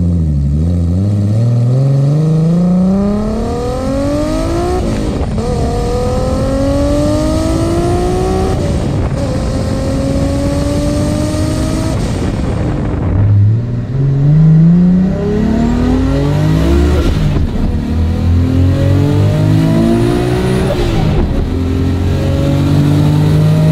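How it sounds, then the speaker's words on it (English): An RB26-powered Datsun 240Z revs hard through several rising gear pulls, its loud engine note climbing and dropping at each shift, heard from inside the car with no talking. "we're going for a spin in the RB26 240"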